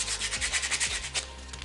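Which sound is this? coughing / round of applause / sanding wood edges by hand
sanding wood edges by hand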